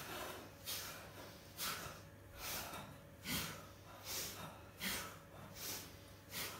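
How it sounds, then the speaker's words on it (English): Slow, deliberate breaths drawn in and pushed out in a guided throat-centered breathing exercise, about six to seven airy bursts evenly spaced and fairly close, over a faint steady hum, with no talking. "we inhale and exhale now"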